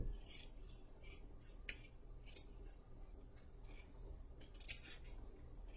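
Scissors snip through black felt during a Halloween mirror craft, making a series of irregular, crisp cuts with short pauses between them, fairly close and quiet against a soft background hiss.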